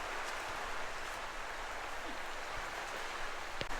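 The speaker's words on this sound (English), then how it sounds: "this rain is being very persistent" Persistent rain falls outdoors during an open-fire cook in extreme weather, a soft, even hiss of drops with a few faint taps near the end.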